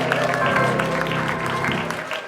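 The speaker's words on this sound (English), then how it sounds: "the crowd cheers louder than they'd ever cheered" A crowd at a village fishing contest bursts into loud cheering and clapping, with bright rhythmic hand claps and shouting voices close by, a short excited burst that tapers slightly at the end.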